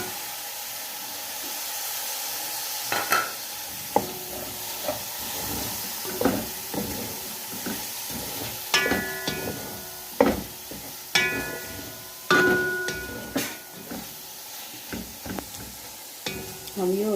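Tomatoes sizzling in hot oil in a pot with ginger for chicken yakhni palau, a steady background fry broken by repeated scraping and clinking strokes of a spoon stirring.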